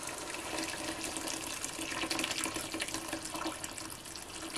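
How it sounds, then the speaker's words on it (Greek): Hot water poured into a cooking pot of vegetables, a continuous soft splashing pour that runs steadily and fairly quietly throughout. "Και προσθέτουμε νερό καυτό"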